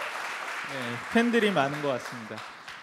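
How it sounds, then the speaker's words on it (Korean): Conference audience at a startup ecosystem panel giving applause, a soft spread of clapping in the hall beneath someone speaking into a microphone. "박수 부탁드립니다."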